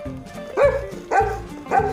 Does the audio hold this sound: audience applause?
no